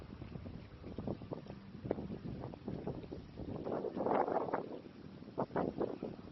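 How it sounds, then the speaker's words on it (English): Steady blustery wind buffets the microphone at an RV resort, a continuous low rumble with gusty swells, fairly loud and close. "It's going to be really windy down here"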